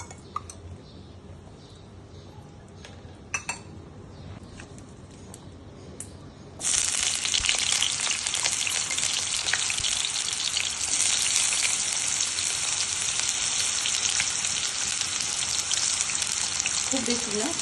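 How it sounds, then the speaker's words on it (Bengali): Boiled eggs and potato cubes fried in oil in a kadai: quiet handling noises and a couple of clicks, then a sudden loud, steady crackling sizzle as the food hits the hot oil, continuing strongly to the end. "একটি কড়াইতে তেল নিয়ে ডিম ও আলুগুলো ভেজে নিতে হবে।"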